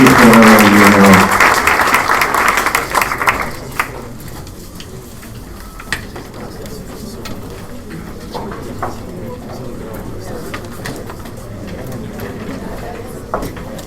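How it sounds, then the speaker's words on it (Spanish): Audience applause for panel speakers at a talk on the Sykes-Picot Agreement fades out within the first few seconds, leaving a quieter room with scattered sharp knocks, cooing-like murmurs and people talking. "Así que les pido un aplauso y les agradezco a los expositores por haber participado"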